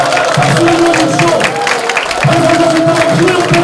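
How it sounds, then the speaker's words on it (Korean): Audience applause at an election campaign committee launch for candidate Shin Dong-geun in Incheon's Seo-Ganghwa B district, a dense wash of clapping blended with crowd noise and a steady tonal layer, briefly thinning near the middle before swelling again. "박수를 주십시오"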